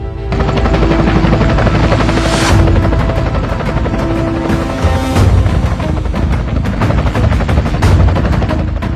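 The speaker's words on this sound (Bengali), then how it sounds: "এলাকায় হেলিকপ্টার কে নিয়ে আসলো?" A helicopter arriving in a neighbourhood, a loud, continuous rotor roar with rapid thudding blade chops and a rising whine, close and dominant throughout with no talk.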